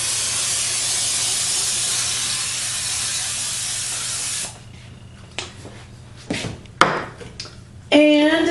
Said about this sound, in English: I am now going to spray the pan here with cooking spray